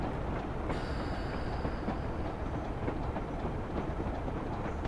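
A train hauled by a pair of Class 37 diesel locomotives rumbles past close by, a loud continuous roar with rhythmic clatter of wheels over rail joints.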